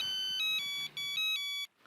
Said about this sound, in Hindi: एक मिनट फोन है शायद